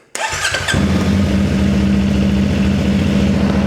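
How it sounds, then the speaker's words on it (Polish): A motorcycle engine cranks and catches, then settles into a loud, steady idle rumble close by. "Możemy zapalić silnik i zobaczyć, jaki będzie spadek tego napięcia"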